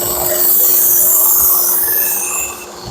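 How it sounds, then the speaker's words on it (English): A Shun Classic chef knife is ground on a 120-grit stone to reprofile the primary edge. A loud, continuous gritty scraping runs for a few seconds with no talking. "I'm going to sharpen the primary edge to cut it in."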